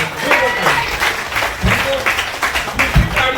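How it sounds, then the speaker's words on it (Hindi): Loud applause from an audience in a meeting hall at a company gathering, dense clapping with a voice talking over it throughout. "एक बार जोरदार ताली चाहूंगा आप सबके लिए, जोरदार ताली।"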